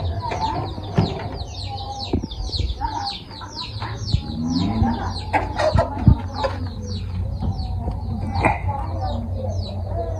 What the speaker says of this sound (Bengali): আমাদের টাইগার মুরগিও বেশ মানে বড় হয়ে গেছে।